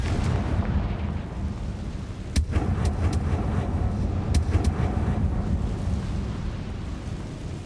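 A Confringo explosive spell in the Hogwarts Legacy video game: a deep rumbling roar punctuated by several sharp crackling bursts in two clusters, moderately loud, with no talking.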